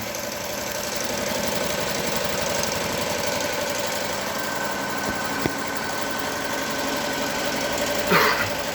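A Melco EMT 16x embroidery machine stitches a patch with a steady, fast mechanical chatter that stays close and even throughout, plus a brief squeak near the end.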